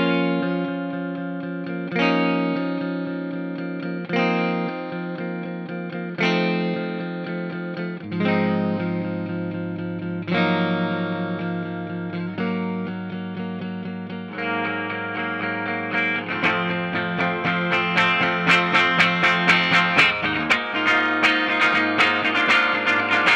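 A 2021 Gibson Original Collection 70s Les Paul Deluxe gold top electric guitar played through an amp, with ringing sustained chords struck every couple of seconds, then a faster, denser strummed passage toward the end, with no talking.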